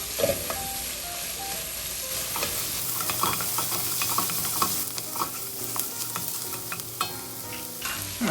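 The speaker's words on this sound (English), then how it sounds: "Okay, stir it around. Alright, cook this down for 4 minutes until the onion is translucent" Onions cooking in a pot for Manhattan clam chowder being stirred, soft sizzling and frying under repeated scraping stir strokes, close and moderately quiet, no talking.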